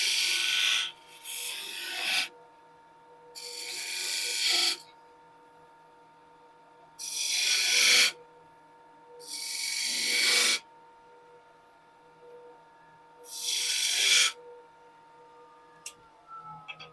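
A skew chisel cuts against a spinning wooden bead on a lathe to tidy its corners, heard as five rasping scrapes of one or two seconds each over a faint steady motor hum, close and with no talk.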